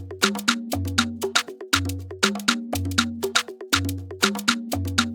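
Looped drum pattern for a gospel makossa groove, with sharp repeating hits over a deep low pulse, steady and loud, cycling about once per second with no talking.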